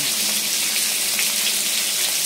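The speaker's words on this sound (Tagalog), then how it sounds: "Prito-prito muna tayo." Steady, dense sizzling and crackling of marinated pork frying in hot oil, continuous and fairly loud with no pauses.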